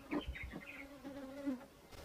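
Honey bees buzz faintly and close by as they are shaken into a hive box, giving a few short, wavering hums, some sliding in pitch.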